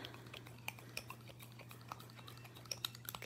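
Clean spatula stirring nail polish inside its glass bottle, faint close-up scraping with small irregular clicks and ticks against the glass, quiet and with no talk.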